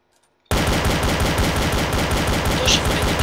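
Rapid automatic gunfire in the video game Garry's Mod bursts in after a brief near-silence and continues as a loud, dense, unbroken stream of shots.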